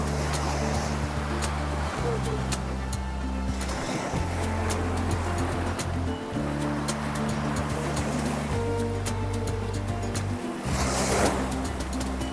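Steady roar of surf breaking on Corbyn's Cove Beach, Port Blair, in the Andaman Islands, with wind noise and a low humming drone running underneath throughout.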